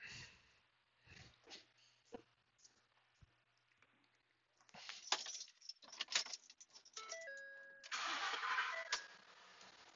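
A 2016 Ford F-150 engine with its hood open, cranking and catching in the second half after some quiet clicks and handling, then running at a steady idle, heard fairly faintly.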